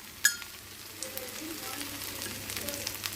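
Rava masala dosa frying in a generous layer of oil on a hot pan, a steady soft sizzle with a sharp crackle near the start and faint intermittent pops and scrapes, close by with no talking.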